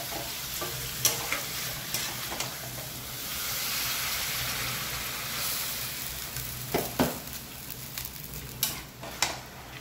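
Chicken browning in a pan as water is added, giving a close hiss and sizzle that swells in the middle, with scattered clinks of a spatula stirring against the pan.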